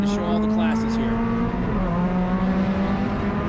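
Spec MX-5 race cars circling Hallett in a race, engines droning steadily with a strong sustained note that shifts pitch slightly, loud and continuous, with a commentator talking over the whole stretch.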